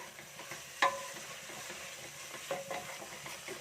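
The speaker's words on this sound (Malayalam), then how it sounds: "ഇതിലോട്ട് ഞാൻ കുറച്ച് പുതിനയിലയും കുറച്ച് കറിവേപ്പിലയും കുറച്ച് മല്ലിയിലയും കൂടെ അവിടെ ഇട്ട് കൊടുക്കുകയാണ്." Mint, curry and coriander leaves are stirred into a beef curry masala frying in a pan, with a soft sizzle and a couple of brief scraping clinks of the spoon.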